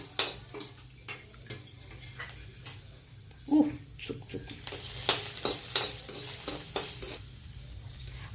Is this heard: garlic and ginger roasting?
yes